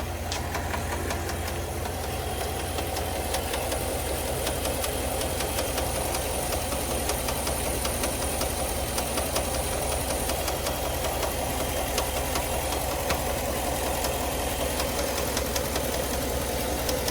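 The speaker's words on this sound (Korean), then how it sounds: "시동을 걸 때마다 엔진에서 이상한 소리가 나기 시작했습니다" A new pickup truck's engine, a week old, knocks abnormally after starting, producing a continuous loud, rapid ticking and rattling over a steady idling rumble, heard close and without any voices.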